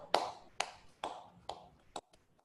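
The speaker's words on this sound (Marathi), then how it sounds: "असंच टाळ्या वाजवा सगळेजण असंच टाळ्या वाजवा एकदा" Hands clap together in unison during a group meditation session, about five sharp, evenly spaced claps roughly half a second apart. Each one rings briefly into the room, and a couple of softer taps follow as they fade.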